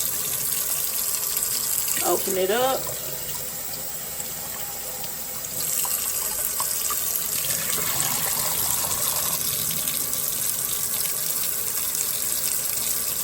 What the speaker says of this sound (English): we're gonna go ahead and wash the beans